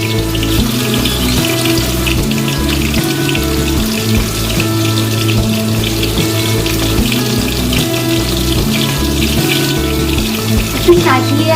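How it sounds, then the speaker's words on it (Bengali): Chicken pieces gently lowered into hot oil in a kadai (wok) for chicken curry set off a loud, continuous crackling sizzle that holds steady for the whole stretch. "কড়াইতে চিকেনটা এবার আস্তে করে দিয়ে দিই"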